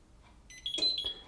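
Electrolux induction hob timer giving a short, faint electronic beep alarm, a brief pulsing tone heard alone.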